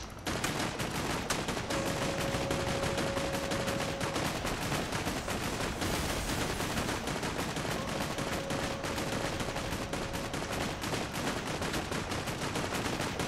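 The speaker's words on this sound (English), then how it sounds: "Stop shooting shit, man." Rapid, dense gunfire in Borderlands 2 rattles nonstop through the whole stretch, loud and close with automatic bursts overlapping into a continuous barrage.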